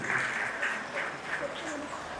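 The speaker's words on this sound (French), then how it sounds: "Sous vos applaudissements, nous allons l'accompagner à retourner à sa place, s'il vous plaît." Applause from an audience at a student gala dinner in Ouakam, a steady patter of clapping that carries throughout, with voices mingling underneath.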